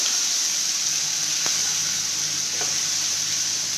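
Nellore brinjal fry with ginger garlic paste cooking in oil in a pan, a steady loud broadband sizzle throughout with a couple of faint utensil taps, close up and without speech.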